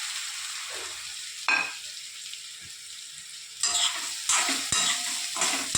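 A vaghar of asafoetida and curry leaves hits hot oil and sizzles for the bottle gourd muthiya, with a steady hiss and sharp flare-ups as the pieces go in and the pan is stirred.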